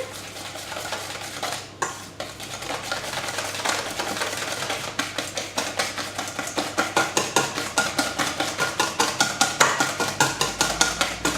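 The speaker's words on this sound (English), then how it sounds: "So my icing sugar, just whisk that in" A whisk beats sifted icing sugar into friand batter for fig and walnut friands in a bowl, a fast steady clatter of rapid strokes that grows more rhythmic and pronounced toward the end, close and alone.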